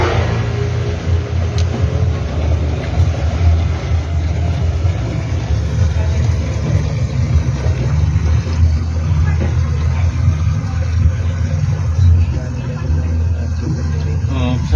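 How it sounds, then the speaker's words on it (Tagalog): A motor, likely one used to pump water in a rural province, runs steadily nearby. It makes a loud, continuous low drone with an uneven rumble, and faint voices sit underneath it. "Yun na yung motor siguro dito."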